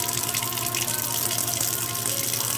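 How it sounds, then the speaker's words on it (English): Cold water runs steadily from a kitchen sink tap, a continuous close splashing hiss that holds even and unbroken throughout with no voices. "Keep the water running"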